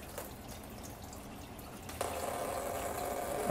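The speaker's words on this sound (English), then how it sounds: "I am going to lose a lot of coolant because it's the back coolant hose" Coolant pours from the rear coolant hose of a BMW E36 M3 during a cooling system overhaul, a steady splashing stream that swells in strength partway through, close and continuous with no talk.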